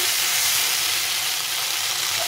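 Bitter gourd and potato with spices sautéing in a pan for a fish curry, giving a steady, close, unbroken hiss with no talking.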